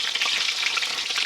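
Eggplant frying in hot cooking oil, a dense, close, continuous sizzle and crackle with no voices.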